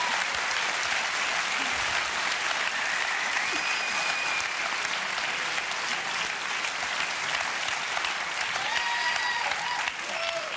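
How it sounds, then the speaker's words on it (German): Sustained loud studio audience applause on a German late-night talk show, steady and dense for about ten seconds, cast as a vote for a handmade fruit figure, with faint voices and cheers mixed in. "Applaus bitte jetzt."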